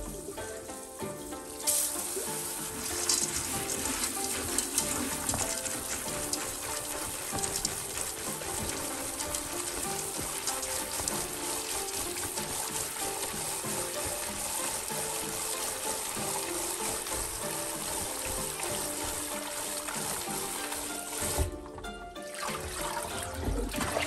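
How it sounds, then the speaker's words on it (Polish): Soaked soybeans for homemade tofu are rinsed in a bowl of water and drained, a continuous close trickle and slosh of running water that lasts throughout with a brief dip near the end. "zalewamy wodą. Czyścimy przez minutkę, 2, następnie odcedzamy."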